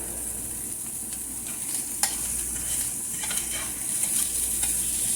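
Tiny pieces of sausage frying in a pan give a continuous close sizzle, while a utensil stirs them with a few sharp scraping clicks and no voices.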